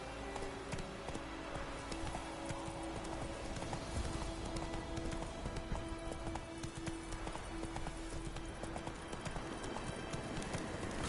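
Horse hooves clip-clopping steadily at a gallop from The Witcher video game, a continuous rhythmic beat over game ambience and tonal music, with a faint whinny.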